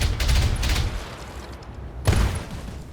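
Weapons fire and impacts in the BattleTech video game, a couple of sharp bursts of gunfire and hits within a few seconds, moderately loud with a crackling decay between them.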